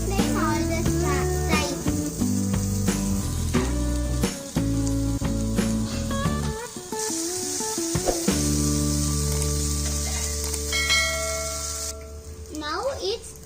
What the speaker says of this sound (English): Fry on low flame all the time.